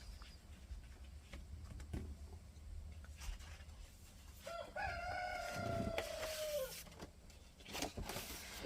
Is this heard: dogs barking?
no